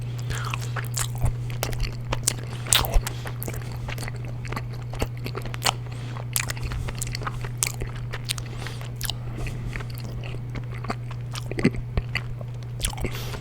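Chocolate-covered marshmallows with soft, slightly melty chocolate are bitten and chewed close to the mic, with repeated wet crunches and squishy chews in an irregular rhythm over a faint steady hum.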